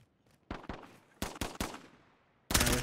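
Gunfire from a firefight in the video game Warzone: sharp broadband shots in separate bursts, a couple of single cracks, then a cluster of three or four, then a dense rapid burst at the end, fairly close and loud with no talk.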